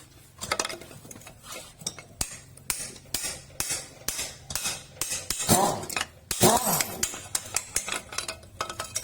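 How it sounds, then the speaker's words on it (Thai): A seal driver repeatedly taps an axle seal into place, producing close, irregular metallic knocks and clinks in quick bursts with brief pauses between strikes. "ตัวตอกซีนนะครับ"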